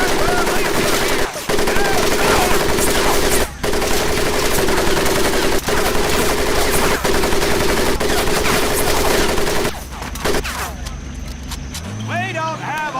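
Sustained gunfire over a mud pit during boot-camp training in the Medal of Honor video game, loud continuous machine-gun bursts that drop away near the end as a shouted voice comes in.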